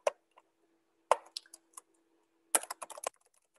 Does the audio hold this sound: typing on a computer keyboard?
yes